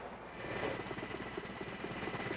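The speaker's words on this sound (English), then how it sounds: "Coast Guard helicopters" Coast Guard helicopter searching over the Atlantic Ocean, a steady rotor chop with a regular beating rhythm and constant engine drone, moderately loud and continuous throughout.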